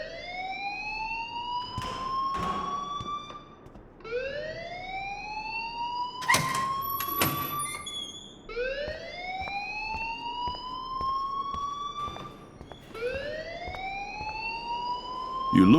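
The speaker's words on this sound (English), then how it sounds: "please turn off that alarm since that's your job" A rising, wailing alarm in Life Is Strange sweeps upward in four repeated cycles, loud and close, with sharp clatters and knocks breaking in between the sweeps.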